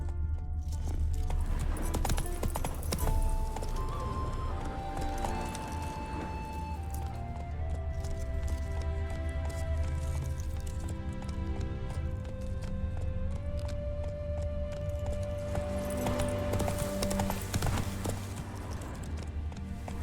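Horse hooves clip-clopping at a steady trot in The Witcher 3 video game, a continuous rhythmic beat mixed under game music and ambience.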